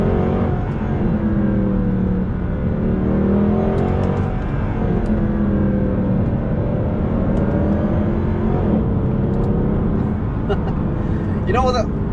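Mercedes-AMG C63 (W204) engine in Sports Plus mode revs up and down in sustained, swelling pulls, loud and close from inside the car, with a brief high whine near the end.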